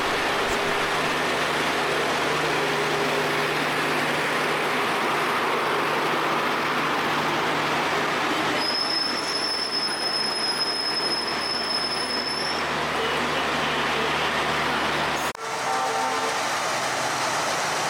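A WDM-3A diesel locomotive idles with a steady low throb and constant rumble, close by; a high whistle-like tone sounds briefly midway.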